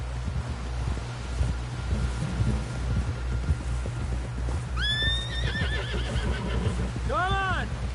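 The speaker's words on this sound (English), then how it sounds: "Someone help John down off this horse." A horse in Red Dead Redemption 2 whinnies loudly twice, rising and falling calls over a steady rumble of wind and rain, with faint hoof clatter underneath.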